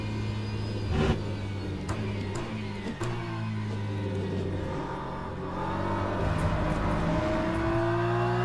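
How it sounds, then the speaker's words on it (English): A Ferrari hypercar in the racing game Le Mans Ultimate, its engine droning and rising in pitch as it comes through, a sustained loud roar layered over other engine rumble with no talk. "Ferrari hypercar coming through."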